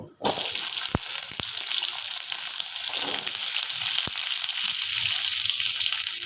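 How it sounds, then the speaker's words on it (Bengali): Small-cut vegetables hit hot oil tempered with whole cumin and dried chilli, bursting into a loud, continuous hiss and sizzle that holds steady after a brief quiet start, with a few sharp clicks. "এবার আমি কেটে ধুয়ে রাখা সবজিগুলো দিয়ে দেব"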